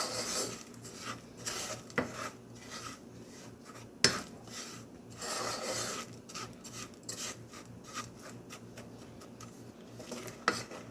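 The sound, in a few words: stirring melting caramel in a saucepan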